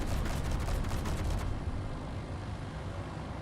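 Rapid automatic gunfire from a strafing run in the game Space Engineers rattles loud and dense for about a second and a half, then gives way to a rumbling roar that fades slowly.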